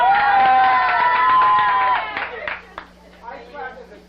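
Guests at a party trivia game break into cheering and whoops with a few scattered claps, loud and close at first before thinning out into lively chatter and voices.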